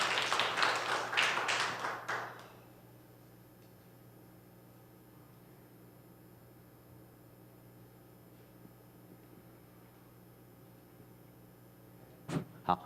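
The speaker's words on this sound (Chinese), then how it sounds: "我们拍手来欢迎" A church congregation applauds in welcome, with a brisk burst of clapping that dies away after about two seconds and leaves a quiet room with a few faint taps at the end.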